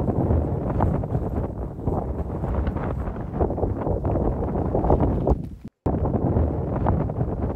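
Strong, steady wind buffets the microphone on a mountain road near wind turbines between Jeongseon and Taebaek, roaring loudly throughout with a brief dropout.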